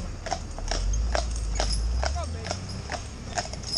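Shire stallion's hooves clip-clopping at a steady walk along a road, the sharp regular strikes sounding close over a low rumble, with a brief whinny-like sound in the middle.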